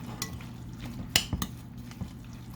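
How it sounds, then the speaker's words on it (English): Spoon stirring seasoning through a salmon patty mixture in a bowl, giving a few soft scrapes and light clinks against the dish, close and quiet with no talking. "I'm just going to go ahead and kind of stir this up a little bit"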